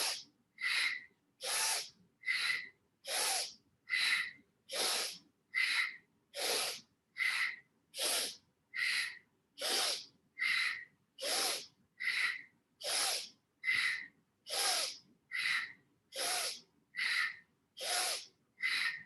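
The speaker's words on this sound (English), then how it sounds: "stay with strong breathing" Strong, forceful breathing-exercise exhalations repeat in a steady, even rhythm of about one sharp, hissing breath per second, each burst close and loud with brief silences between.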